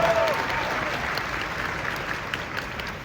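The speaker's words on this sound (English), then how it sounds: "So one more round of applause for our panelists as we get started here" Panel audience at a San Diego Comic-Con session for the fighting game Marvel Tokon: Fighting Souls applauds steadily, a dense wash of clapping sustained for about three seconds with faint crowd murmur.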